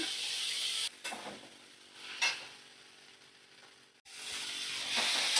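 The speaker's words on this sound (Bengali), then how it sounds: "তো ভালো করে আমি মশলাটা কষিয়ে নিচ্ছি" Spices with a little hot chilli powder sauté in oil for a mutton curry, a fairly quiet sizzle that swells and fades as the pan is stirred, with a brief dip near the end.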